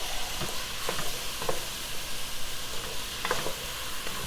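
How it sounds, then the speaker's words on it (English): Sausage sizzles loudly in a pan for chicken and sausage pasta, a constant frying hiss with a few soft knocks of a stirring spoon. "just going to add all this sausage in here. Then I'm going to give this a stir, a good stir"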